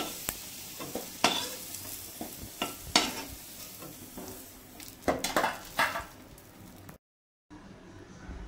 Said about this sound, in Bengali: আলু ভাজা হয়ে গেছে। এখন আলুটা নামাবো।